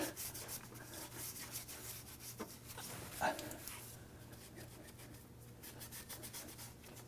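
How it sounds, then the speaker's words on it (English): Scotch-Brite pad rubbing rust off a car engine compartment, a quiet, close, rapid back-and-forth scratchy scrubbing in short repeated strokes, with one brief louder scrape midway. "just rubbing the Scotch-Brite pad just for a few seconds to loosen up that rust really gets it off"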